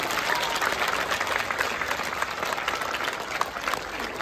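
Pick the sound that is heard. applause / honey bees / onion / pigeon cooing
applause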